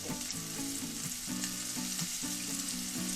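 Floured fish fries in hot oil in a pan, a loud continuous bubbling sizzle close by with a pulsing, rhythmic undertone and no talking.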